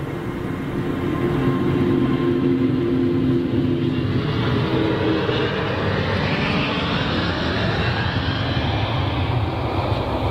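Aircraft queuing at the Frankfurt airport cargo hub give off a loud, continuous jet-engine roar that swells slightly and holds steady, with no speech.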